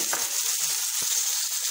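One and a half to two spoons of oil heating in a frying pan, giving a constant thin, high hiss with no pauses. A few faint low knocks sit beneath it, and nobody speaks.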